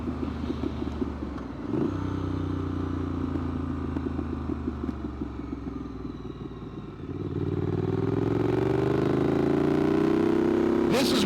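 Triumph Street Scrambler motorcycle engine heard close while riding, a steady loud rumbling drone that swells into stronger revving as the bike accelerates partway through.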